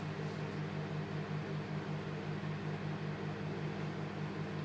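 A microwave oven runs while melting chocolate for Easter egg nests, giving a steady low hum with a constant whirring drone and no talk.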